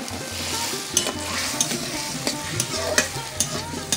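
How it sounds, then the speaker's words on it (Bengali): Cut potatoes are stirred into a pan of hot oil and water for a vegetarian potato curry, with a soft steady sizzle broken by sharp scraping clinks of the spoon. "এবার দিয়ে দিচ্ছি কেটে রাখা আলুগুলো।"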